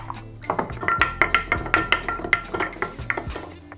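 Ice cubes are dropped one after another into a glass for a grapefruit mocktail, a steady run of bright, close clinks and knocks with no talking.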